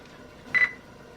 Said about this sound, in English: now that beep indicated it's perfectly in focus